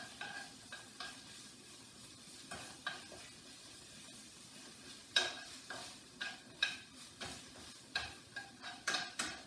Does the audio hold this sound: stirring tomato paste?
yes